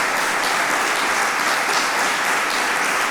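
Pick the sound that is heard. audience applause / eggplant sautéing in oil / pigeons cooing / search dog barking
audience applause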